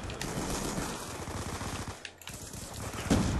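Sustained automatic gunfire in the video game Black Ops 2, a steady rapid rattle of shots that runs continuously with a brief dip midway, with no talk.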